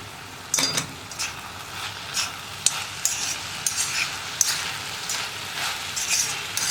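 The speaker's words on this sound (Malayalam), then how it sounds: "നമുക്കിതൊന്ന് ഇളക്കി മിക്സ് ചെയ്യാം." Ridge gourd and lentil thoran is stirred in a pan, giving a series of uneven scraping and clinking strokes over a faint background hiss, close and moderately loud.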